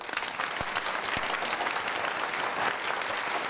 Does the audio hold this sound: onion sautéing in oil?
no